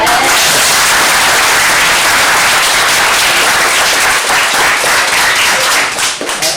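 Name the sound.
audience applause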